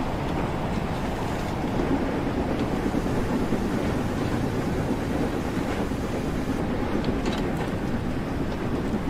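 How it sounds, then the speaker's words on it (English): A steam locomotive in Train Sim World 2 runs steadily on the Liverpool Lime Street to Crewe line, giving a continuous dense rumble at a constant level without pauses. "we've got another train there"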